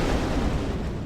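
A missile explosion in the space game Freelancer gives a short, dense roar of broadband rumble, loud and sustained through its brief length with no talk.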